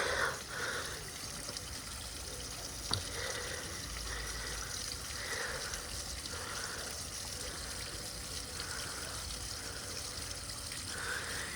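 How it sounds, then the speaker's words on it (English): Flood water drains out of a manhole as a steady rushing, trickling flow, continuous and moderately loud with faint outdoor background and one brief knock, and no voices. "You can hear the water going."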